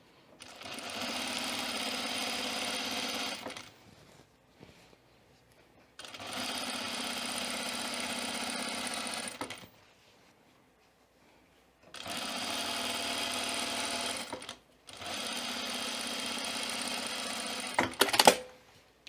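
A domestic sewing machine stitching a button-up shirt placket, running in three separate bursts of several seconds each with quiet pauses between, a steady close mechanical whirr, ending with a short clatter.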